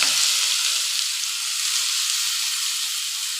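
Amaranth leaves sizzle and fry loudly in a hot pan with mustard seeds and cumin, a continuous crackling hiss with no voices.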